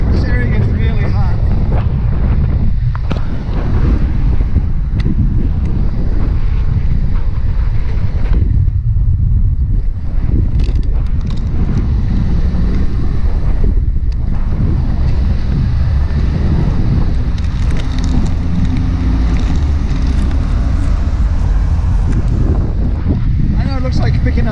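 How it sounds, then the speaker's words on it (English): Steady wind buffets the microphone on the open deck of a cruise ship carrying over 4,000 passengers, a loud, constant low roar with a faint wash of sea beneath, while a person talks over it. "It's nice, there's nice wind today."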